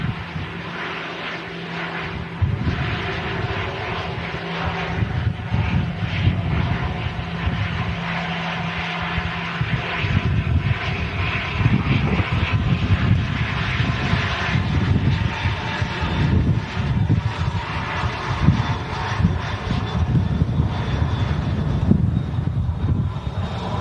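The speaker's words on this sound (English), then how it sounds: "I'll catch this EasyJet taxiing past first though." An EasyJet airliner taxis past at an airport in rough, windy weather, its jet engines a loud, steady roar with a broad rumble that holds for the whole stretch, and no voices.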